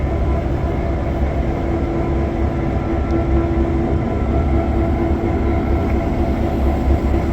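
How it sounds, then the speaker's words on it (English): EMD GP9 diesel locomotive number 1518 at a railway museum diesel event, a loud, steady engine drone with a sustained tonal hum and rumbling low end, continuous and close, with no speech. "Here we have the beautiful GP9 1518, either GP9 or GP7."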